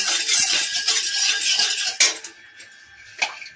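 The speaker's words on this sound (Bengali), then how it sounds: "কড়াইতে তেল দিয়ে দিয়েছি, এর মধ্যে 1 চিমটে নুন দিয়ে ভালো করে তেলটাকে ঘষে নিচ্ছি।" Oil and a pinch of salt being rubbed around a wok (karai) with a metal utensil, giving steady close scraping and clinking that eases off partway, followed by a single sharp clink near the end; no talking.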